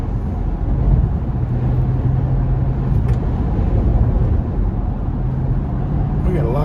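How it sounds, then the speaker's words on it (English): Strong headwind gusts buffet a moving car, giving a constant loud low rumble and roar inside the cabin that shakes the vehicle for the whole stretch. "My car is shivering and shaking. Can you hear the wind?"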